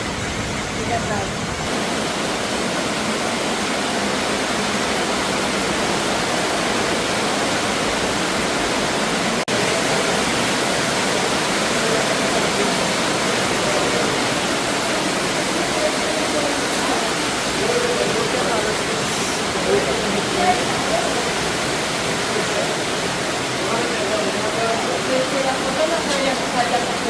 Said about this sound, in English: Do you hear? That's all water.